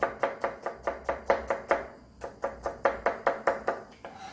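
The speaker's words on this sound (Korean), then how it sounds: "나머지는 채 썰어서 들어갈 겁니다." Onions julienned with a knife on a cutting board, a quick steady run of crisp chopping taps, about four per second with a brief pause midway, close and clear with no talk.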